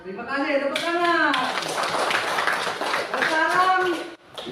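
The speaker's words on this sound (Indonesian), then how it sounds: "terima kasih, tepuk tangan." Children in a school classroom give a short round of hand clapping, mixed with an adult's sung or drawn-out voice before and after the claps.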